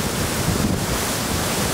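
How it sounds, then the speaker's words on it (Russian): A powerful waterfall fed by a glacier in the Norwegian mountains, a loud, steady broadband roar of rushing water with no voices. "мощный водопад, мощный"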